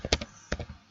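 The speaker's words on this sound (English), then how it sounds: "I'm typing here" A few quick keystrokes on a computer keyboard, light separate taps close by with short gaps between them.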